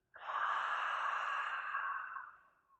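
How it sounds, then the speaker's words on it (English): A single long, soft exhale during a guided breathing exercise, close and quiet, easing off over about two seconds with no talking. "I am breathing out"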